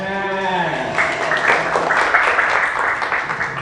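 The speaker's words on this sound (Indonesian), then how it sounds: "tepuk tangan." A classroom of students applauds during a teaching practice lesson. A sustained burst of clapping swells in after a short moment, with bits of voices mixed into it.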